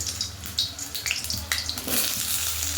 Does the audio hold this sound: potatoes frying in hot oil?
yes